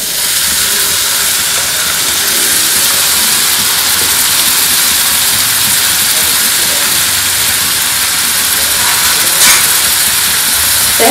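Chopped onion sizzles in hot oil for egg bhurji, a loud, continuous frying hiss that holds steady throughout without talk.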